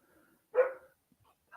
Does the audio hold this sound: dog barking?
yes